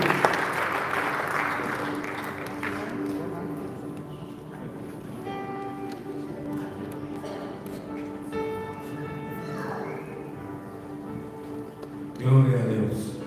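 A church congregation applauds during a Spanish-language worship service. The clapping is brief and fades within a few seconds, giving way to sustained musical tones and someone speaking.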